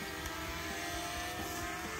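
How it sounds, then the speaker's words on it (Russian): A small drone lifting off for a holiday flight at Bibione, Italy, puts out a steady, loud, even buzzing whir of spinning propellers that holds throughout. "Запускаем дрончика."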